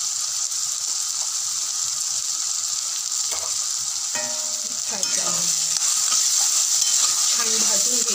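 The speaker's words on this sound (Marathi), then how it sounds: "छान भाजून घ्यायचं आहे." Coconut, garlic and ginger paste roasting in a pan for a goat head mutton curry, with a steady bright sizzle of frying, stirring scrapes and a few clinks of the spoon against the pan.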